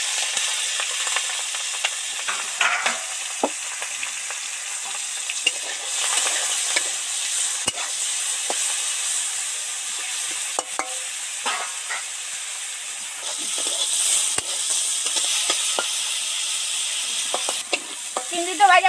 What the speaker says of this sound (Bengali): এবার এই ম্যারিনেট করা চিংড়ি কটা তেলের মধ্যে উঠিয়ে দেব।